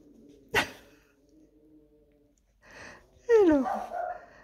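A female pet dog indoors lets out a sharp short bark, then low grumbling and a whining, rising moan, close and fairly quiet between the sounds.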